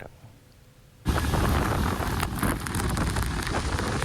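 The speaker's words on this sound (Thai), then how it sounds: "ต้นไม้ในเมืองแคมปาลูบไปตามแรงลม ท่ามกลางฝนตกหนักหลังจากพายุเฮอริเคนเมลตันพัดขึ้นชายฝั่งตะวันตกของรัฐฟลอริดา" Heavy rain and strong wind from Hurricane Milton lashing trees on Florida's west coast. After a quiet second, a loud, constant roar of wind-driven rain and buffeting gusts bursts in and continues, with no talking.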